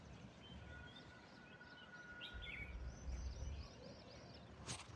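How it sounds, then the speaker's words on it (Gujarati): Several birds chirp and call at intervals against a steady outdoor hiss, their songs fairly faint and distant, with a low rumble building midway. "અહીંયા જો કેવા કેવા પક્ષીનો અવાજ આવે,"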